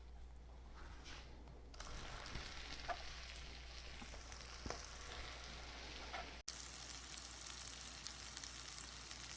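Potato cheese mochi fry in a pan with a soft, steady sizzle under a low hum, the hiss brightening after a brief cut, quiet and without voices.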